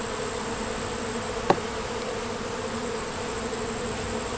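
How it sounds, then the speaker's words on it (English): Steady, low insect buzzing hangs in the air throughout, like many bees humming nearby, with one brief tap partway through. "That way the bees that can fly will fly."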